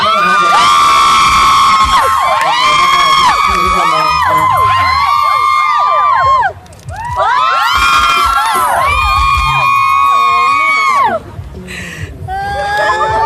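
A crowd cheers and screams in loud, high-pitched bursts of whooping, with brief dips between the waves of noise.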